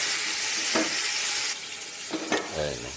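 Chicken sautés in a pressure cooker with a steady broadband sizzle, interrupted by a few scraping stirs and a brief low clatter near the end, with no talking.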